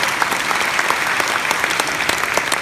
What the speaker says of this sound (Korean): 큰 박수 해주시오요